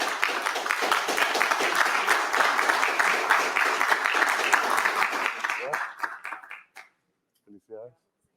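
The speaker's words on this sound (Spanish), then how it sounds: "Un aplauso, muchas gracias" Applause after an official photo at a government council meeting, a steady round of clapping that thins out and stops, followed by a few brief scattered claps.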